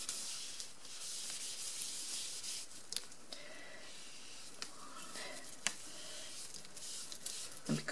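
A wet wipe rubbing across a silicone craft mat, a soft, close, continuous scrubbing hiss broken by a few brief scrapes and taps.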